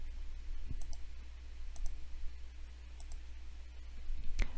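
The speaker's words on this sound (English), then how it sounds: "I'm going to click off to the side." Several sharp mouse clicks, spaced sparsely over a quiet room-tone hum while drawing cloud shapes in Adobe Illustrator, with a slightly louder click near the end.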